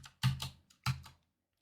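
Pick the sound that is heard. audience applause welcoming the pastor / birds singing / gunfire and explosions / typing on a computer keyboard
typing on a computer keyboard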